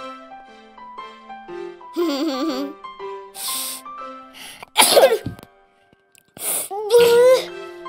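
A young girl sneezes in an animated children's cartoon scene, a sharp burst around the middle of the clip, set among soft background music and nearby voices.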